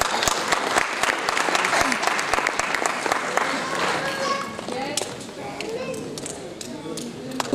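Audience applause at an Andaaze Rafi music evening welcoming a senior police official onto the stage, with sharp individual claps within a crowd, a voice talking over it, and the clapping thinning out near the end.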